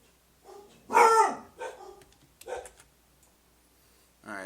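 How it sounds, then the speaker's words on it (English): Dogs bark indoors in bursts, a loud cluster near the start and shorter yaps after, heard from a nearby room. "We got some barking dogs in the background right now."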